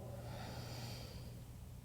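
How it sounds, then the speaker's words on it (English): Slow, deep breathing through the nose during a yoga forward fold, a soft airy rush lasting a couple of seconds, close and faint with no talking. "5 deep breaths"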